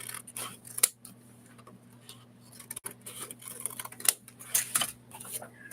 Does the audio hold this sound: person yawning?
no